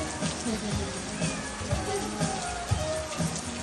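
Heavy rain pours down on a farm, hard enough to knock a tent over, making a dense, steady roar of hiss and patter with voices faintly beneath it.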